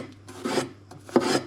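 A kitchen knife slices apples into strips for compote, giving two short scraping rasps close by with a brief pause between them.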